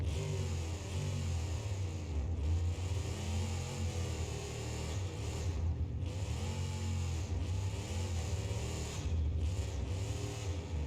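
A monster truck engine in BeamNG.Drive running on regular gasoline instead of alcohol fuel, revving hard and continuously with repeated surges and dips in pitch, loud and close, no talking.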